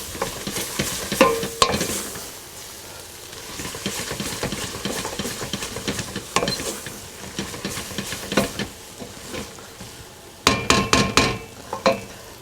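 Flour stirred into a hot pot of onions for French onion soup: scraping spoon strokes against the pot over a steady sizzle and hiss, with sharper clattering knocks toward the end.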